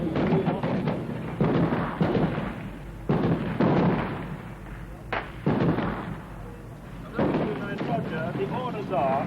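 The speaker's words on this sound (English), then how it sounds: "A gun battle broke out." Gunfire in a street gun battle in Northern Ireland in the 1970s: several loud, sharp bursts and cracks at intervals, mixed with a murmur of voices and background noise.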